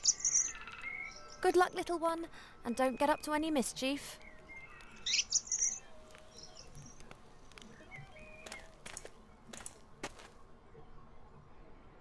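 Cheep Cheep, a chirping bird in the video game The Book of Unwritten Tales, gives bursts of quick high tweets and trills, close and clear, between and under stretches of spoken dialogue.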